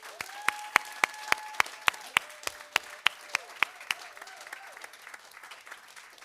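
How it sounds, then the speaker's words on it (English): At a school graduation ceremony, an audience claps for the graduates, a soft wash of applause under a run of sharp, evenly spaced loud claps that stops partway, leaving the softer clapping to fade. "Let's give the graduates another round of applause."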